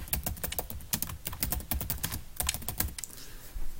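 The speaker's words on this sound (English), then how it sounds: "We then type a description" Rapid, irregular keystrokes as a description is typed into a box on a computer keyboard, crisp and close with no voices.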